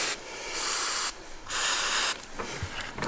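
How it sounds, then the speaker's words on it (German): Three bursts of aerosol spray hissing, each lasting around half a second, close up, with brief quiet gaps between them. "einfach mal sprühen"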